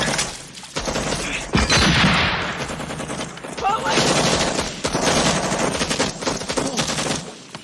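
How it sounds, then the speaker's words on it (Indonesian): Heavy gunfire erupts during a war film scene near rice fields, rapid machine-gun bursts and volleys rattling loudly and continuously, with a narrating voice partly over them. "serangan itu menyebabkan Brownie tertembak dan kehilangan banyak darah"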